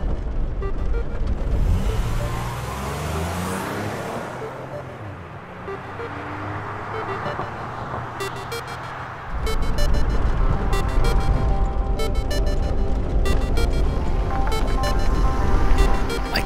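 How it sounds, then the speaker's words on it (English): A car drives across open desert sand on a shortcut toward Lima, with steady engine rumble and wind that jumps to a louder, rougher roar partway through as the vehicle pushes harder through the sand. "I can't resist a bit more sand driving one final time."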